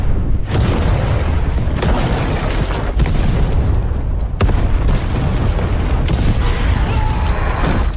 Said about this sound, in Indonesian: Sementara seluruh lorong yang ada di sana akan diledakkan oleh Rambo.